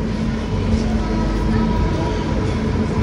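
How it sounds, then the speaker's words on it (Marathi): The Saurashtra Mail passenger train rumbles along steadily, a continuous low rolling drone heard from inside, with a voice talking over it. "आणि आपली ट्रेन चालली आहे टुवर्ड्स द्वारका ओका त्याच्या पुढे."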